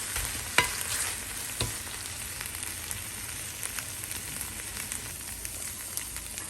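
Chicken pastil filling is mixed with butter in a frying pan: a constant crackling sizzle carries throughout, with a couple of sharp spoon knocks and faint stirring scrapes near the start.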